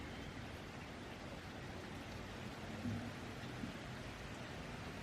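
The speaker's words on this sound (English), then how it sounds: "As you can see, it is very much raining." Rain falls outside a cottage on a wet afternoon as a soft, even, distant hiss with no distinct drops, quiet and unbroken, with one faint low thump partway through.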